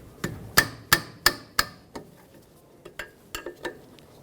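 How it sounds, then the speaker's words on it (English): Sharp metallic clicks and knocks ring out as a 10mm wrench works on a caliper slider pin bolt of a 2009-2011 Ford F-150, a quick burst of four or five close strikes followed by scattered lighter taps. "Use a 10mm wrench or socket, break free this slider pin bolt."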